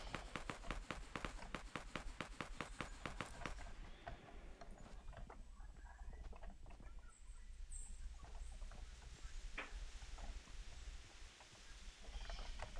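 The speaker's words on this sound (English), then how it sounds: "Just when I kept hearing footsteps behind me." Rapid rhythmic footsteps in Fortnite: Battle Royale, running close by for the first few seconds, then giving way to quieter ambient game sounds and scattered faint effects.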